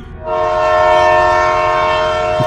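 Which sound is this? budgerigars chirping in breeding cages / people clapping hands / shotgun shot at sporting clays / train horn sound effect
train horn sound effect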